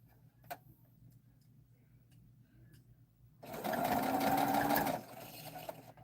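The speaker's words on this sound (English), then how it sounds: "you got to do some more sewing on that unicorn" A sewing machine stitches a unicorn in a short steady burst of rapid mechanical whirring, preceded by a faint tick and quiet room hum.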